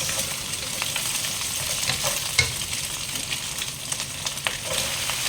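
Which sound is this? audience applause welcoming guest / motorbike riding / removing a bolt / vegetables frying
vegetables frying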